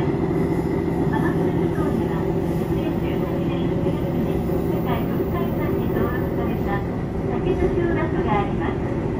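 A local train rolls along the rails with a steady, loud rumble and wheel noise that fills the whole stretch, faint squeals rising now and then, while a voice talks over it.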